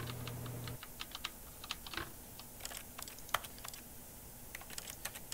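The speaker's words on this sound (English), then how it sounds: "Keyboard, edit keys." Rapid, uneven keyboard typing from The Stanley Parable video game, crisp clicks and clacks scattered over about five seconds, with a low hum fading out early and no voices.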